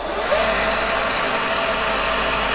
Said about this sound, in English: So I'll now start up the motor.